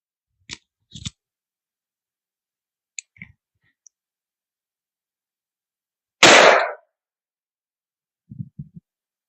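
A single loud gunshot from a 10-inch brace pistol firing Buffalo Bore .45 ACP +P 255-grain hardcast, a sharp blast lasting a split second. Faint handling clicks come before it in near silence, and a few soft knocks follow.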